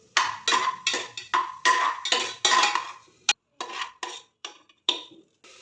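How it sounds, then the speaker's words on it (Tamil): A metal spoon scrapes and clatters in a pan while ginger garlic paste is sautéed for mutton nalli soup, a string of clanking stirring strokes, close and clear, with no talk. "அதுக்கப்புறம் கொஞ்சம் வதக்கி விட்டுக்கலாம்"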